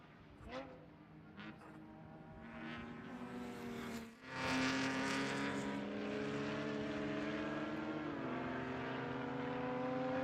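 A race car circuits the track at Hallett during an endurance race, its engine droning steadily with rising and falling pitch as it passes, a loud surge near the middle, under a commentator's talk.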